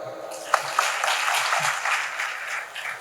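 An audience claps together in a hall, a dense, even patter of many hands held at a steady level for a few seconds, with no talking over it.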